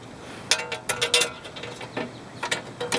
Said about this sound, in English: We'll hand tighten the rest of the screws in